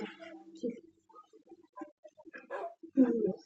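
Puppies give a few short, high yips and barks between quiet gaps, close by, with people talking softly around them.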